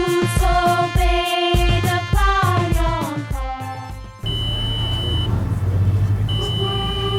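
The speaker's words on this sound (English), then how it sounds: "Now it has triggered an alarm after sensing a temperature above 37 degrees Celsius." A temperature-sensing screening device sounding an alarm after detecting a reading above 37 degrees Celsius, rapid repeated electronic beeps followed by a sustained tone over background hum, loud and close.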